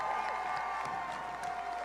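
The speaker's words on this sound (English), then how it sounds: "Give them a round of applause." Steady applause and crowd noise from an audience at a charity dancing event, continuous and moderately loud, with music or a sustained tone running underneath.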